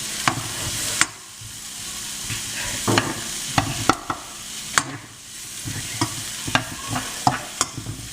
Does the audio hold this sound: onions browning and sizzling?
yes